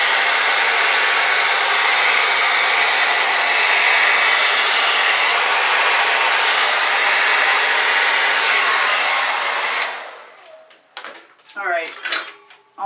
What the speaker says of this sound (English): And then I'm going to take a torch to it.